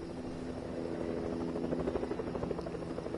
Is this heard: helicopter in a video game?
yes